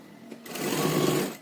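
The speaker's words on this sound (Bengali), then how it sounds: "ঠিক এইভাবে মুড়ে নিয়ে একটু চাপ সেলাই দিয়ে নেব।" A sewing machine runs steadily for about a second, stitching down a folded blouse neckline, close and fairly loud with a smooth rising whir.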